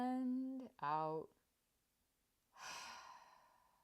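A deep exhale from a person during a breathing exercise, a soft airy breath out following a brief spoken voice, close and quiet in a calm room.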